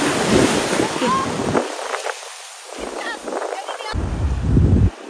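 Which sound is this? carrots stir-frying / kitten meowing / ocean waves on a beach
ocean waves on a beach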